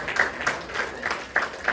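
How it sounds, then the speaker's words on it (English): A small comedy-club audience at a casino showcase gives a brief round of applause for a married couple in the room, sparse claps rising and falling in short bursts, fairly faint. "give that a round of applause"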